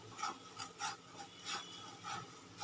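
Sugar and water being stirred in a pan for caramel, heard as a rhythmic scraping and rubbing, roughly once every half second, close and fairly quiet, with no talking.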